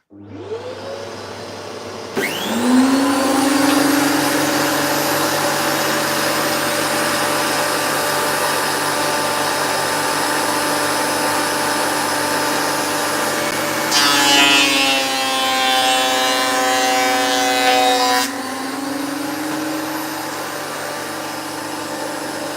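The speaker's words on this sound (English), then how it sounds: "let's just go ahead with today's video and start the planing" A wood planer runs through a board of timber with a loud, steady, close-up motor roar. The tone shifts partway through as the cut changes, then settles back into the continuous whine.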